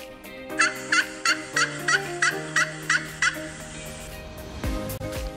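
A domestic farm turkey gobbles in a rapid run of about nine loud, evenly spaced warbling calls, close up and alone over a faint steady tone.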